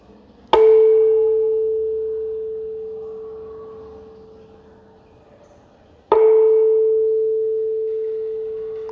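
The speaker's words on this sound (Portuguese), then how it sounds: "vou pegar essa haste que tem essa bolinha de borracha e vou bater no meu diapasão" A 440 Hz tuning fork is struck twice with a rubber-tipped mallet, each strike ringing out as a pure, steady tone that slowly fades; the second strike comes about five seconds after the first.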